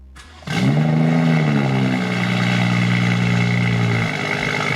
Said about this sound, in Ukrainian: Звучить вона неадекватно, ну дуже голосно, дуже гучна машина